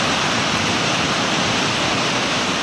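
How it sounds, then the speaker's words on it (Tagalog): Rushing floodwater from the Poncian River flowing down from Mount Canlandog in Murcia, Negros Occidental, during a tropical storm. It makes a loud, steady roar of broadband noise that fills the whole clip, with no voices. "makikita ang matinding pagragasa ng tubig baha mula sa Mount Canlandog, Poncian River ng Murcia, Negros Occidental"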